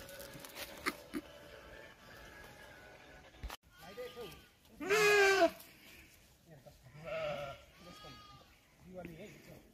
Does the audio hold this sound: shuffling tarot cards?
no